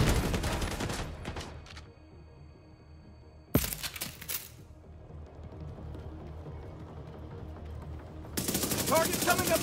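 Automatic and burst gunfire from the video game The Division 2, in loud rapid volleys at the start, middle and end, with a quieter stretch of game ambience between them.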